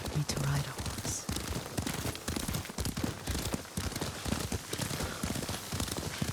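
Horse hooves clip-clop at a riding pace in Ghost of Tsushima, a steady repeating beat close by that runs the whole stretch, with voices talking over it.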